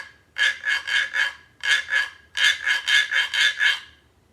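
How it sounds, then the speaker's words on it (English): A guiro scraped up and down its ridges with a wooden mallet gives close, loud rasping strokes in three bursts of several quick even scrapes each, with short pauses between. "we are going to take the mallet and we are going to rub it up and down on the ridges"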